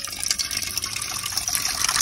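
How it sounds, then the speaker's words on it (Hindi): Water pours steadily from a home water filter into a container, a continuous close gush lasting a couple of seconds with no voices. "मैं फिल्टर से लेके जाती हूँ पानी"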